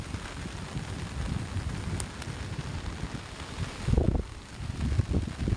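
Strong wind at sea around a small boat whose engine has died, heard as gusty, rough rumbling buffeting across the microphone with rain-like hiss and louder surges near the end.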